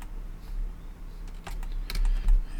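Quick, light keystrokes tap on a computer keyboard close by, a short irregular patter of clicks over a low steady hum, with no voices.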